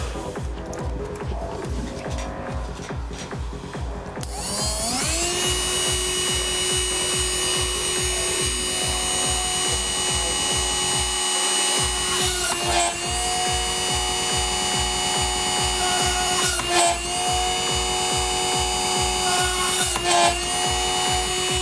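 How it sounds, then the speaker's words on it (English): A small drill bores through a printed circuit board, giving a steady high-pitched whine with a rapid, regular ticking pulse that runs close and continuous, briefly dipping once before resuming. "those drills I'm using are really sharp."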